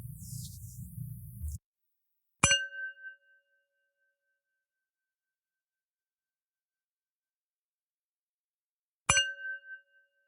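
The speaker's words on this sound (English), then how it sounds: "The show will begin after the following chimes." Two clear meditation chimes ring out about six seconds apart, each a bright struck tone with a long fading ring, after a brief burst of other sound, in otherwise near silence.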